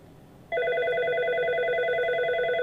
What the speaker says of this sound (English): And we can see that this phone is ringing, right?